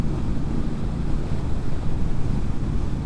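Wind blast buffeting the rider of a 2024 Triumph Speedmaster 1200 motorcycle with no screen, at speed in sixth gear, a loud, constant low roar of rushing air over the microphone.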